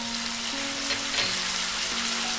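Chow mein with egg and prawns frying in a hot pan as a teaspoon of dark soy sauce goes in, giving a steady close sizzle with faint stirring scrapes and no talk.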